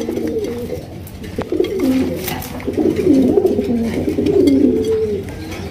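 Big Golla pigeons on a pigeon farm cooing, several soft throaty rolling coos repeating close by over a faint background murmur.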